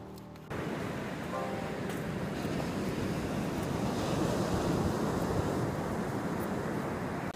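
Ocean surf rolls onto First Beach at La Push, Washington, a continuous broadband roar of breaking waves mixed with wind buffeting the microphone, with no voices.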